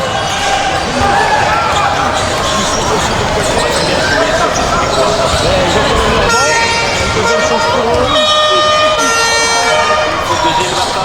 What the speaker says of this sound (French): Et on entend des klaxons au galerie.